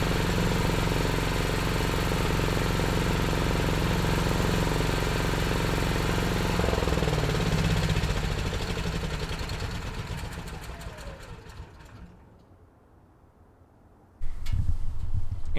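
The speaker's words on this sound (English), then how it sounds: "we just need to wait for our 2-minute cool down to finish, and then the generator will shut down" Backup home generator idling through a two-minute cool down after a night power outage test, a steady loud engine drone that winds down and fades to near silence before a brief burst of noise at the end.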